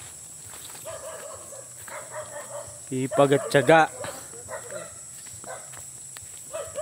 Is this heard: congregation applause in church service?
no